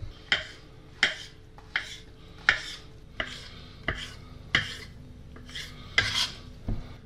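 Knife chopping mushrooms (bay boletes and a few porcini) into even pieces on a board, about ten distinct sharp cuts in an irregular rhythm, close and clear with no talking.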